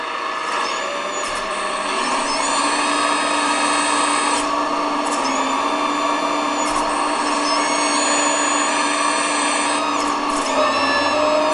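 An RC excavator's engine sound effect revs steadily with a high whine and buzzing drone, RPM rising, punctuated by brief pitch shifts and clicks, loud and continuous.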